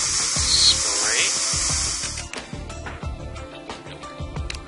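Forensic powder sprayed in the Trauma Team game, a loud hissing spray burst for about two seconds, followed by clicks and short interface blips.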